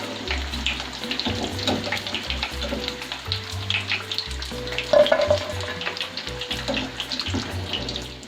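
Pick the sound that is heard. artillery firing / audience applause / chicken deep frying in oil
chicken deep frying in oil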